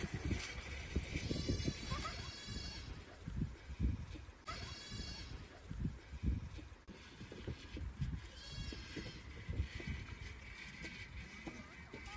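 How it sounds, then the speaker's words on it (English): Goats bleat several times outdoors in warm weather, wavering calls rising over rustling and shuffling noise, fairly close but not loud. "Fancy, are you being a goat?"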